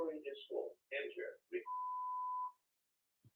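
During a live online show, a phone gives a single steady electronic beep lasting nearly a second, right after a voice, followed by quiet and a faint click.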